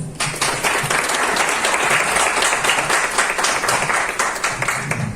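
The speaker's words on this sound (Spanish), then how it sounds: "Lo recibimos con un fuerte aplauso" Loud, sustained applause from a university audience welcoming a speaker at an environmental discussion event, dense clapping holding steady for about five seconds with a brief rise at the start.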